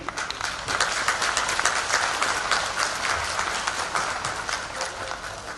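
Sustained applause from a crowd at an event honouring women-led development initiatives, dense and fairly loud clapping that holds steady throughout without a break.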